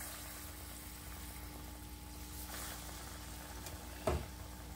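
Quiet, steady frying hiss of banana fritters in hot oil, a soft even sizzle throughout with a brief clatter near the end.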